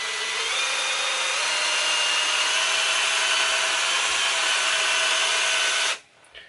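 A power drill spinning a polishing pad across the body of an Epiphone S-310 Strat-style guitar, giving a steady, loud whirring hiss for about six seconds before it abruptly stops.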